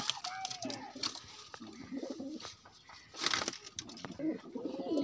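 Pet pigeons from a kept pair coo softly in low bursts, mixed with rustling and scraping while someone speaks nearby.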